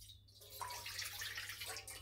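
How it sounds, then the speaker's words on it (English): Water and milk poured into a pan on the stove, making a steady soft splashing pour that runs without a break through the whole short moment. "Add our 125 millilitres of water and 125 millilitres of milk"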